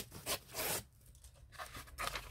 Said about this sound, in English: I'm going to tear off the edge.